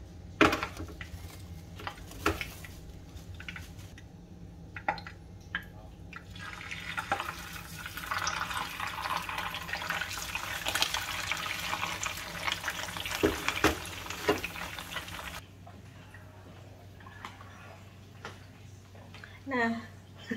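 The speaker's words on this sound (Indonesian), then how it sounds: "jadi saya goreng dulu lelenya dikit" Catfish frying in a pan at home, a steady sizzle and crackle of hot oil running through most of the stretch with occasional clinks, fading to a quieter hiss near the end.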